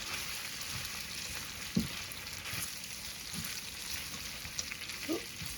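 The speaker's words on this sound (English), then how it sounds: "Then we're going to put in our bacon pieces back in." Bacon pieces fry in a pan for an Italian dish, a faint, even sizzle with a few soft clinks and tossing sounds scattered through, quiet and close.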